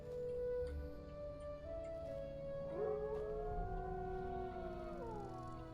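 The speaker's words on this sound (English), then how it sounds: "I did definitely just hear wolves howl." Wolves howl in the fantasy game Enderal, a Skyrim mod: several long, rising and falling howls overlap at moderate distance, layered over a steady ambient music bed.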